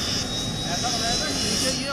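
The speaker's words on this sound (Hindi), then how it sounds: "लेकिन अब लाइट कॉम्बैट हेलीकॉप्टर देखिए" HAL Light Combat Helicopter flying at the Aero India 2021 airshow, a loud continuous engine and rotor roar with a voice talking over it.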